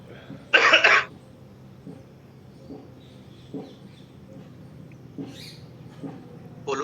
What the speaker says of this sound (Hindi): पोल्यूशन की वजह से खांसी है